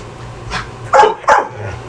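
A dog barks close by indoors: a faint first yip followed by two louder, sharp barks in quick succession.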